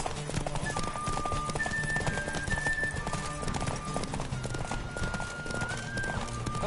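Horse hooves gallop at speed in The Witcher game, a fast steady clip-clop rhythm held throughout under music with faint tonal notes and a voice speaking briefly.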